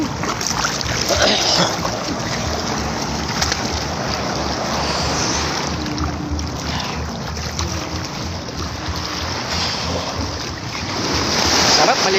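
Big ocean waves surge and wash onto a beach in a continuous roar, with heavy wind buffeting the microphone and voices talking and exclaiming over it.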